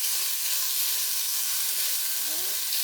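Bacon sizzles in a pan for spaghetti sauce, a loud, steady, close hiss of frying fat that runs without break, with a faint brief scrape near the end.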